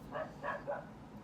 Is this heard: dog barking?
yes